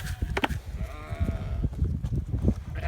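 Sheep bleating on a Welsh family smallholding, a few bleats carrying over a busy farmyard background.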